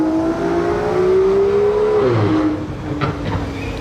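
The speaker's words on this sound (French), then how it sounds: "Oh le bruit, Aston Martin, oh ouais le bruit qu'elle fait" An Aston Martin Speedster engine revs nearby in a street setting, a loud rising and falling engine note that drops off partway through, then a lower rumble with crowd noise behind it.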